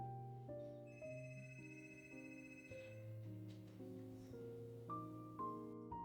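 A telephone rings with a stepping, melodic ringtone, its repeated tones faint and close throughout the short stretch, with no one speaking over it.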